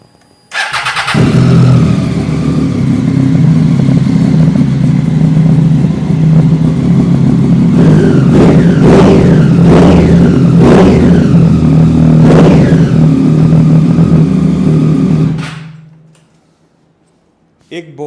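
A second-owner motorcycle fitted with a Two Brothers exhaust fires up and settles into a loud, throaty idle, then gets several sharp, quick revs in a row before the engine is cut.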